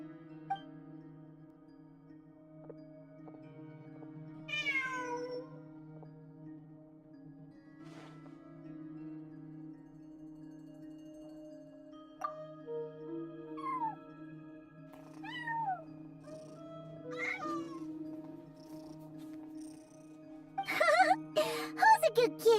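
A video game cat gives several short, rising meows spread over the clip, set against a steady low tonal hum with faint rustles and a brief burst of clatter at the end.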